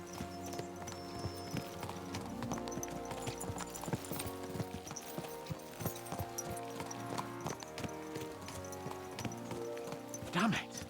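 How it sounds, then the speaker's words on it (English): Horse hooves clip-clop steadily in Kingdom Come Deliverance 2 as horses are spurred along, a continuous rhythmic beat under game ambience with speech over it. "Let's really spur these horses on, eh?"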